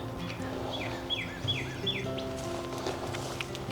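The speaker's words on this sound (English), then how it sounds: "I can hear Mr. Cardinal chirping away." A cardinal in a flowering garden sanctuary gives a run of sharp, repeated downward-sweeping chirps, four in quick succession near the start, over soft ambient birdsong and insect hum.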